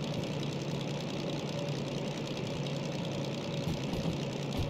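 A DM3 diesel locomotive in Derail Valley chugs under throttle with a steady, even low-pitched throb, continuous and moderately quiet, with no other sounds over it.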